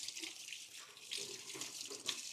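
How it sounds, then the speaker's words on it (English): Water runs from a tap over gloved fingers being rinsed, a steady close splashing stream with small surges as the hands move under it, no talking. "let me rinse my gloved fingers off a little bit"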